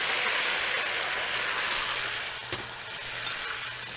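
Beef stock hits a hot pot-roast pan to deglaze it, giving a dense, continuous sizzle and hiss at close range with a faint stir partway through.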